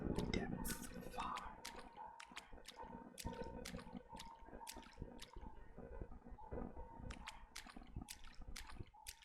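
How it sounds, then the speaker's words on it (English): Faint, sharp water drips fall one after another at an uneven pace in a deep, very wet underground space, with a low background hum beneath them. "The sound of water dripping, perhaps?"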